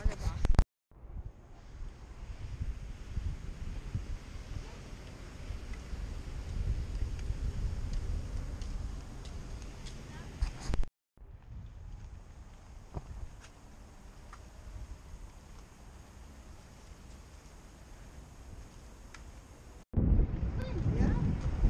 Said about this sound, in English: There is wind. It's a breeze.